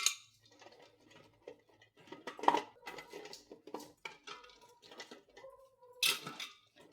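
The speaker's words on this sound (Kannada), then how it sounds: "ಮೊದಲಿಗೆ ಮೊಟ್ಟೆಯನ್ನೆಲ್ಲ ಕುಕ್ಕರಲ್ಲಿ ಸೆಟ್ ಮಾಡಿಕೊಳ್ಳೋಣ" Washed raw eggs being set one by one into a pressure cooker: soft, scattered clinks and light taps of shell against metal, quiet and close, with short pauses between.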